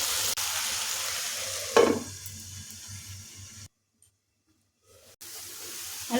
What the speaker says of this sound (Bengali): এখন লবণ দিয়ে আলুটা ভেজে নেব